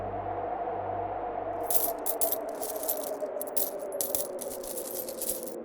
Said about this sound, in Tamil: இந்தாங்க நானூறு வெள்ளி காசுகள்